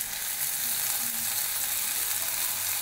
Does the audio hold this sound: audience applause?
no